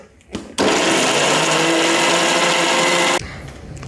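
A mixer grinder whirs loudly and steadily for about two and a half seconds as it purees tomatoes, starting abruptly after a brief click and then stopping.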